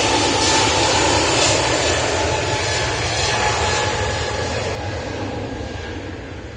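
British Airways Airbus neo jet passing at Manchester Airport in windy storm conditions, a loud broad engine roar that slowly fades as it moves away.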